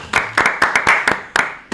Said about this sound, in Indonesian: Tepuk tangan buat Basya